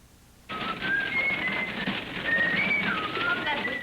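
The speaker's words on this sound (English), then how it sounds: "What's that whistling phrase?" A person whistles a thin wavering tune in a 1937 film, the notes sliding up and down over an old, hissy soundtrack background that starts abruptly.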